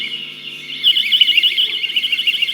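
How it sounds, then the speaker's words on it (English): A personal alarm device set off by pulling its trigger pin, emitting a loud, piercing, warbling electronic shriek that starts after a brief pause and continues steadily at close range. "You can just pull this and it gives an alarm"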